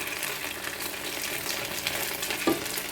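Leftover rice and rice flour snacks deep frying in oil make a continuous bubbling sizzle at moderate level, with a light clink near the end and no talking.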